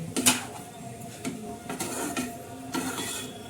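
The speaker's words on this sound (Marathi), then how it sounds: "हे बघा असं चांगलं हलवून घ्यायचं म्हणजे साखर आहे ना ही मस्तपैकी अशी हे होऊन जाईल" A spoon scraping and clinking in a pan as semolina and sugar are stirred together, several distinct metallic knocks over a soft background, no talking.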